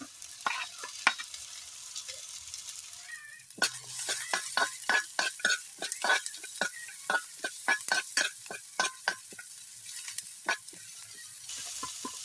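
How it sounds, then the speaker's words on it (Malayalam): Chopped ginger and garlic tossed into hot oil in a pan for a snakehead fish curry, frying with a soft sizzle under a quick run of sharp spoon scrapes and taps against the pan, close and rhythmic. "അടുത്തായിട്ട് നമ്മൾ അരിഞ്ഞു വെച്ചിരിക്കുന്ന ഇഞ്ചിയും വെളുത്തുള്ളി ഇട്ട് കൊടുക്കുകയാണ്"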